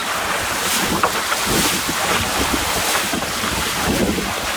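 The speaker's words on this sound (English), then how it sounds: "I'm planing down some of these waves, which I've never done before in Cape Louise." A small sailing dinghy planes down big offshore waves near Cape Louise, with loud, constant wind buffeting the microphone over rushing water and surf, and no talking.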